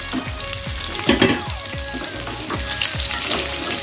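Onion and chili stir-frying in a hot pan for a chop suey vegetable dish, with steady close sizzling and repeated scraping strokes of a spatula throughout, no talking.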